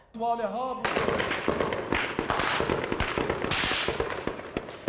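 Rapid sharp cracks of gunfire burst out amid a noisy, shouting crowd at a ceremony in Afghanistan where the vice president was speaking, following a brief stretch of voice at the start.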